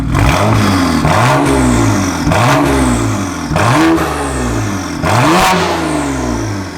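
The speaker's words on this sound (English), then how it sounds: "Let's see what this exhaust sounds like." A BMW 335i engine revs through a new $700 aftermarket exhaust, sounding loud and close with four or five repeated rising throttle blips separated by brief drops back toward idle.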